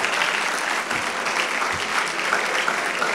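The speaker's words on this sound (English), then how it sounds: "Please give them a round of applause." Steady applause from a stand-up comedy audience, dense continuous clapping at an even level throughout, with no talk over it.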